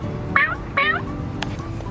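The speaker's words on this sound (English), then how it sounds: "Let's check in with the cats." Two short meows from a pet cat, each a brief rising-falling call about half a second apart, fairly close over a busy indoor background with some clutter.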